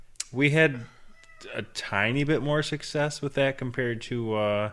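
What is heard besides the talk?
cat meowing in the background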